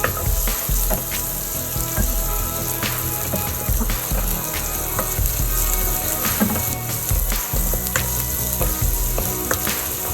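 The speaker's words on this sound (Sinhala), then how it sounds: "තෙල් ටික හොඳට රත් වුණාන් පස්සේ මම සුදු ලුණු ඉඟුරුයි හොඳට බැද ගන්නවා" Garlic and ginger sizzle in hot oil for deviled chickpeas, a steady dense crackle with scattered sharper pops and spatters, close and fairly loud throughout with no talking.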